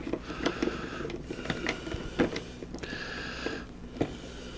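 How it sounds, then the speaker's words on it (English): Plastic cooler tension bracket screws are unscrewed from an AMD motherboard: faint, close scraping and ratcheting clicks with small taps in uneven bursts, with no talking. "So you have to take them off, which is pretty simple. You got 4 screws."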